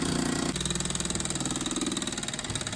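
A small vintage steam toy engine idles, chuffing in a fast, regular pulse that stays close and steady throughout, with no voices over it.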